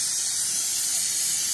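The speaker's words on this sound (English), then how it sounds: "I'm gonna spray it down with some brake cleaner" Brake cleaner sprays in a loud, steady hiss from close range onto the engine of a Honda Odyssey, around the oil filter housing after a gasket repair, one continuous burst with no talking.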